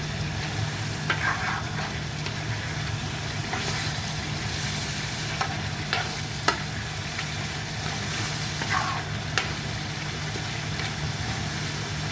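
Meat fries with garam masala in a pan, giving a steady close sizzle broken by scraping stir strokes and an occasional sharp clack of the spoon against the pan.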